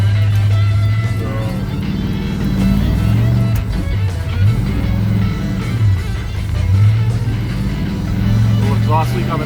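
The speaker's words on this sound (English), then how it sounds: "exhaust leak on the manifold still." Plow truck engine with a leaking exhaust manifold runs steadily throughout, a loud low rumble with a ticking, puffing edge and shifting tone as it drives, with no clear talk over it.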